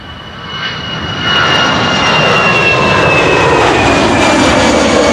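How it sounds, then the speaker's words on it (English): Delta Airbus A350 jet engines at Amsterdam Schiphol, a broadband roar with a high whine that swells over the first second and then holds loud and steady as the airliner comes near. "I am seeing another A350 from Delta coming this way as well"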